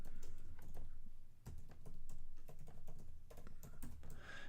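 Quiet typing on a computer keyboard, a steady run of light key clicks with brief pauses, fairly close and alone with no talk.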